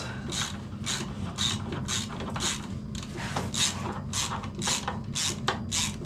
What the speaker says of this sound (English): So I'll give it a few more wax with the impact driver.